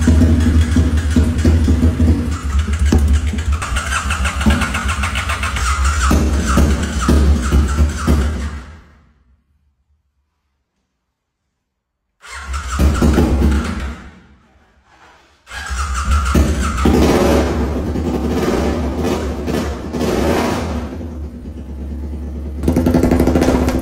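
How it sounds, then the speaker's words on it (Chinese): A rough, long-neglected BMW car engine, just given fresh oil, cranks and runs loud and close, drops into a few seconds of silence, gives a short burst, then starts again and runs steadily to the end. "现在我要再次的启动这台发动机"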